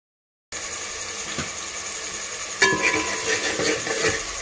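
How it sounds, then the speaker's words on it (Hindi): Masala spices are stir-fried in a pan for an arvi sabzi. A steady sizzle runs throughout, with a few scraping stirs and clinks of a utensil against the pan. "और फिर ये मसाला जो है उसको हम अच्छे तरीके से भुनेंगे।"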